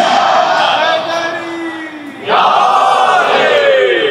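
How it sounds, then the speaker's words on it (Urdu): A crowd shouts a chant in unison, loud and close, with a brief dip before a second surge of voices. "ہمارے منو بھائی غالباً آپ نے ایک نعرہ لگایا"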